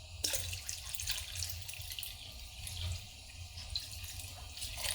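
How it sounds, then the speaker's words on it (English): Water is poured into a pot for canning blueberry jam, a steady hissing splash lasting several seconds at moderate level with no talk. "So I'm going to add a little bit more water to this."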